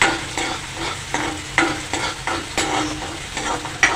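Onions with curry leaves frying in hot oil in a kadai over high heat, a continuous close sizzle with repeated rhythmic scraping stirs throughout.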